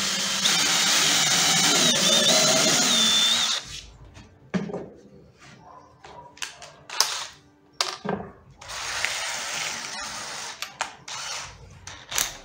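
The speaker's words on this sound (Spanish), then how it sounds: "el avellanador es para broca de un octavo, por eso es que la tengo recortada, para nada más avellanar" Countersink bit in a drill boring into MDF for furniture: a long loud whirring bore up close for about four seconds, then a run of short clicks, knocks and brief bursts of drilling.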